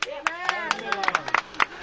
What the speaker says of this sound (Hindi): आमीन है तो ताली बजाओ।